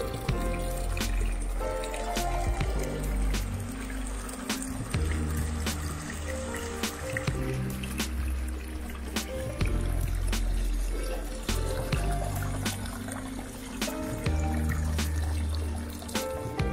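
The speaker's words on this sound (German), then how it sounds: "Da haben wir schon so einen Thermenbrunnen. Ja, da läuft ein warmes Wasser aus" Warm water pours steadily from a thermal spring fountain in the Alpine spa town of Bad Hofgastein, a continuous close splashing and trickling that runs throughout with faint background tones.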